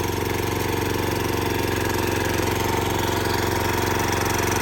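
An old Japanese ISEKI rotary tiller engine idles at low speed, a steady, close, even chugging drone with a fast regular pulse and no pauses.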